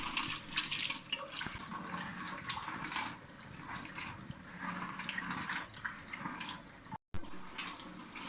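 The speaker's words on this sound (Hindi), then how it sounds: "मेथी को वॉश करेंगे और फिर इसको देगची में डाल देंगे" Fenugreek leaves washed under a running tap, a steady close stream of water splashing into a sink for several seconds with a brief dropout near the end, no talk.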